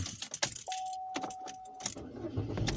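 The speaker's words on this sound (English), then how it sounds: "turn my car off because I don't want to waste gas" A parked car is switched off, with keys jangling in the ignition, a short electronic tone and faint mechanical clicks nearby.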